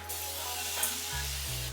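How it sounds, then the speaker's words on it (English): Setting spray mists onto a face in one short continuous hiss, close to the mic and steady, with no talking. "I'm gonna do a quick setting spray again, or fixing spray"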